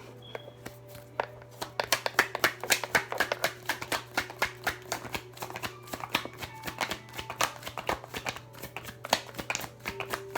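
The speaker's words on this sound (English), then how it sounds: "Let me do some more shuffling." Tarot cards are shuffled by hand close up, a long run of rapid, crisp riffling flicks and taps with a low steady hum underneath.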